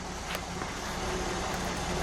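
A white 1978 Ford Mustang II Rallye Appearance Package runs at a steady idle, a low, even engine rumble heard up close with no voices.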